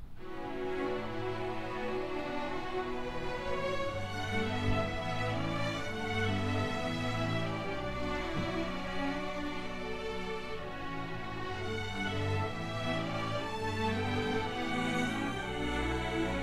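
An orchestral string section playing a period-drama style passage dry, without reverb or EQ, with sustained bowed lines and steady low parts forming a continuous, moderately quiet texture and no voices.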